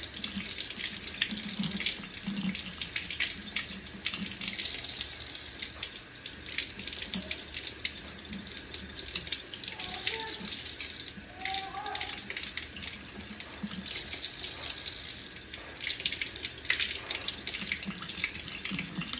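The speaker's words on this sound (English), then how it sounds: "I'm gonna rinse that off with some cold water." Running tap water pours steadily into a sink with faint splashing as fabric is rinsed under the cold stream, with soft background sounds.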